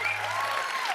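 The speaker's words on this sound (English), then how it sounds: "Everybody, cheer if you want Jack Black in the game." A crowd at an E3 2019 panel in the E3 Coliseum cheers and claps loudly, dense applause with a whistle cutting through the roar.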